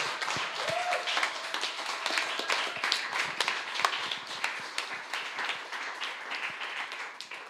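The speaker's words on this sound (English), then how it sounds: "I think you all can clap a little bit louder than that." An audience claps at a talk on a world without police. Dense, steady applause with many separate hand claps carries on for several seconds, and faint talk sits beneath it.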